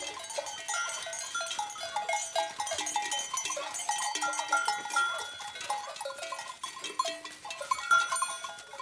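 A herd of about fifty goats at the foot of the Puy Mary peak in the Auvergne mountains, about 1,000 metres up, with cowbells clanking continuously and bleats mixed in, steady and fairly close.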